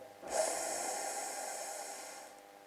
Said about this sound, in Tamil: நீல மூச்சு இழுத்து மெதுவாக விடும்